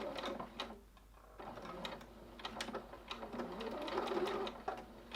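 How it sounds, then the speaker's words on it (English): Sewing machine stitching down the center of zipper tape on a zippered purse, short bursts of rapid mechanical whirring with brief pauses between runs, close and moderately quiet. "we're stitching nice and straight down the center of your zipper tape"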